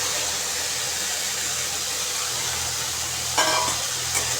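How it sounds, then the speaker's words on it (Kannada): Finely chopped potatoes dropped onto onion frying in a pan for sabudana upma, a steady hissing sizzle that runs throughout, with a short louder clatter of added food near the end. "ಸಣ್ಣಕ್ಕೆ ಹೆಚ್ಚಿದ ಆಲೂಗಡ್ಡೆಯನ್ನು ಹಾಕುತ್ತೇನೆ"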